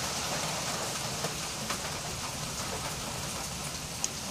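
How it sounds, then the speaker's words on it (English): Steady rain pours down outside an open garage during a storm, a continuous even hiss with scattered sharper drips and one distinct tap near the end, heard alone at moderate distance. "It's storming."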